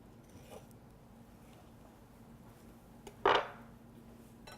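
A knife scores the flesh of a ripe avocado while guacamole is prepared, giving one short, close scraping cut near the end of an otherwise quiet moment.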